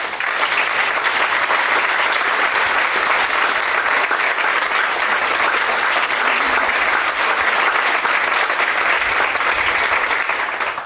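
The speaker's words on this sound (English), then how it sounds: "let's give them a round of applause" An audience at an award ceremony applauds volunteers and board members, with dense, steady clapping from many hands that stays loud and close for about eleven seconds without a break.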